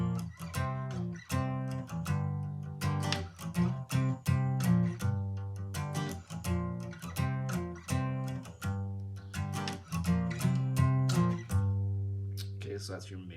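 Electric guitar playing the main rhythm riff of a song, a steady chugging pattern of repeated plucked notes and chord hits with a bluesy groove, close and prominent, no talking over it.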